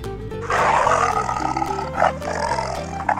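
A plastic toy Bengal tiger's recorded roar, loud and sustained over about three seconds with a rough growling texture and a brief swell near the end.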